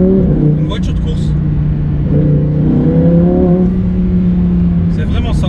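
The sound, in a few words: Lamborghini race car engine revving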